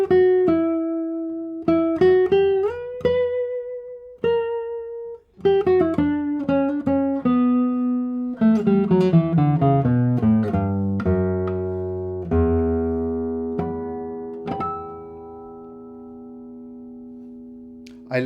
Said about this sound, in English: I like how this guitar combines the deep sound, the deep air body frequency with singing high notes.